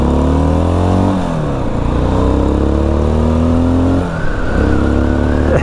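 A Mash X-R motorcycle engine revs up loud and close, its pitch climbing steadily, dropping briefly as the gear changes, then rising again through a continuous run.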